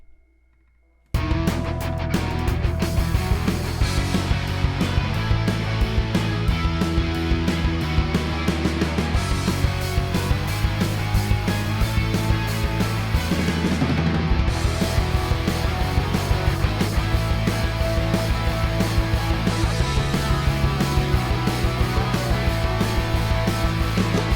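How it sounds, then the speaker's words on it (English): Pop punk beat with big beefy guitars, lows cut and a flanger or phaser sweeping over them, playing loud and continuous after a brief silent start, with a full band mix throughout. "and then just put a flanger on, or a phaser on there"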